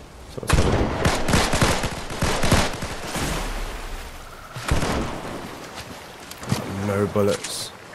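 Gunfire from a hard-kicking gun in Fortnite, rapid bursts of loud close shots in clusters with pauses, while someone talks over parts of it.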